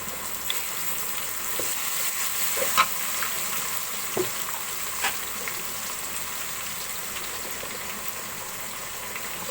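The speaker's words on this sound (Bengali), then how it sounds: "এই আদা রসুন তেলের সাথে একটু ভেজে নেব।" Garlic and onion fry in hot oil in a pot, giving a steady, bright sizzle. Occasional clicks and taps of a spoon sound against the pot, with no talk.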